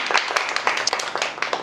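Audience applause at a lecture forum on everyday culture in North and South Korea, dense and steady, with quick overlapping claps filling the room for under two seconds.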